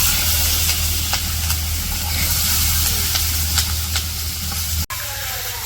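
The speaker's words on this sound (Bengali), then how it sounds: "এখন আবার একটু ভালো করে ভেজে নিব। এভাবে ভাজলে বেগুন ভাজি খাইতে মজা লাগে" Eggplant fries with onion and green chili in a steady, loud sizzling hiss that runs throughout, briefly cutting out near the end before resuming slightly quieter.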